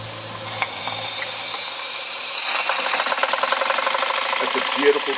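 A custom Jensen 20G model steam engine runs on live steam, a hiss building into quick, regular chuffing beats with a faint mechanical clatter, close by.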